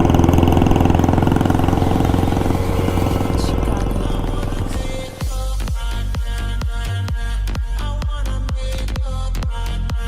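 A motorcycle engine idles steadily and loudly for several seconds, then keeps running as a rapid series of sharp, regular ticks and clicks joins the rumble.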